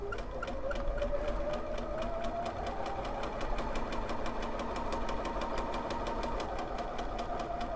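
A sewing machine stitches freehand couching embroidery, with a few stitches on the spot, giving a rapid, even train of mechanical ticks over a humming motor, close and continuous.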